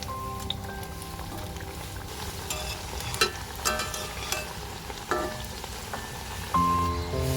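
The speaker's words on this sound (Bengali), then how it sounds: "আবারও বাকিগুলো ঠিক একই রকমভাবে দিয়ে দিচ্ছি ভেজে তুলে নেবো" Small breakfast snacks for a children's tiffin bubble and crackle as they fry in hot oil, a steady close sizzle with occasional clinks and louder splashes as more pieces go into the pan.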